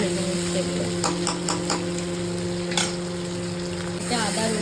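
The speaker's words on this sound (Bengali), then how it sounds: "পেঁয়াজ দিয়ে আলু দিয়ে গোটা জিরে, গোটা শুকনো লঙ্কা, তেজপাতা, গোটা গরম মশলা ফোড়ন দিয়ে এবার একটু ভেজে নিচ্ছি এগুলো।" Onion and potato fry in oil with whole cumin, dried red chillies, bay leaf and whole garam masala, a steady close sizzle with a few stirring clatters, over a constant low hum in the background.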